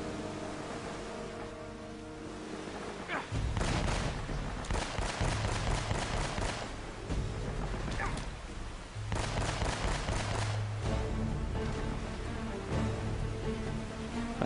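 Gunfire in the video game Uncharted: a few sharp, loud shot bursts break over a steady engine-like drone and game music, with short quieter gaps between volleys.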